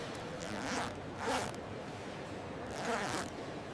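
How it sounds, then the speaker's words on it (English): A jacket zipper is run up and down during testing in a sewing factory, three soft rasping zip strokes over a steady background hiss, faint and close. "Every zipper is tested."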